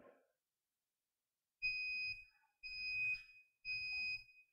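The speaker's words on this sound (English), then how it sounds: "All right, our timer's going off." A kitchen-style timer sounds while a Kydex sheet heats for a holster build: three shrill electronic beeps in a slow, evenly spaced sequence after a moment of near silence, clear and close.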